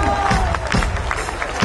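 A concert audience claps and murmurs during a performance, rhythmic clapping mixed with crowd noise and some cheering at close range.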